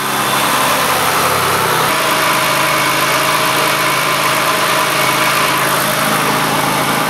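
A 1999 Ford Taurus with a Duratec 3.0 engine idles steadily up close, a loud continuous hum with slight loping variation and a shift in tone partway through.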